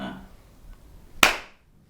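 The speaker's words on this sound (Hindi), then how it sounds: "जब ताली देता हूँ" A single sharp hand clap rings out once, loud and close, after a stretch of near silence, with a brief fading tail.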